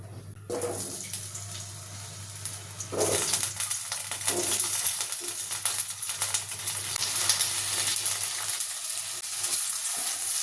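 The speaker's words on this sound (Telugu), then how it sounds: "ఫస్ట్ ఆలుగడ్డను క్యాప్సికమ్ ఫ్రై చేసుకుందాం" Raw potato and capsicum pieces fry in hot oil. A quiet start gives way to a loud, dense, crackling sizzle that carries on to the end.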